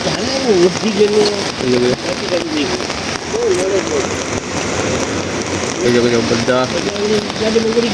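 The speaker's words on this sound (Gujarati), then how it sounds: "જોઈ શકો છો વરસાદ બહુ છે." Steady heavy rain drumming on a surface in a parking area on a trip from Leicester to London, with people talking throughout over the downpour.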